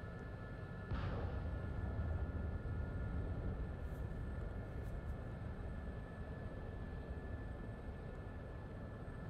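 The SA342 Gazelle helicopter flies in the DCS combat simulator, giving a steady, low turbine and rotor drone with a faint constant whine. The sound stays even throughout, with no talking.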